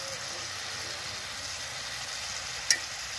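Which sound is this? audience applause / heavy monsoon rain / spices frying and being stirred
spices frying and being stirred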